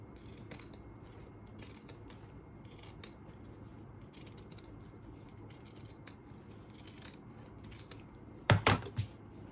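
Scissors snip notches into sewn fabric: a quiet background of handling and faint clicks, then a quick loud burst of three or four close cuts near the end.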